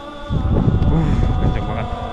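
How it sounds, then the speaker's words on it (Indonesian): Strong wind roars on a mountain trail up Gunung Kembang via Lengkong after a storm, a dense, continuous low rumble buffeting the microphone loudly and up close. "Nah, ini angin kencang banget."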